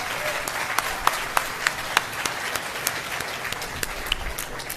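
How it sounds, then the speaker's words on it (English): Audience applause at a hospital groundbreaking ceremony in Mississauga, Ontario, following mention of a large donation; a steady crowd patter with a few sharper individual claps standing out, no voice over it. "You can clap!"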